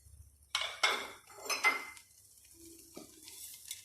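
Onion, chicken and tomato go into a cooking pot (degchi), with clattering pot and utensil knocks, a few scraping stirs and light clinks, close and moderately loud.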